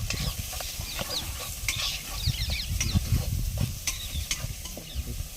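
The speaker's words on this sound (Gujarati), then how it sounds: "લાવો ચમચો લાવો તો બહુ હલાવી દઉં તો મિક્સિંગ થાય જાય" A spoon stirs Kathiyawadi-style roasted eggplant oro in a pan, giving repeated scraping clinks and soft sizzling at close range with no talking.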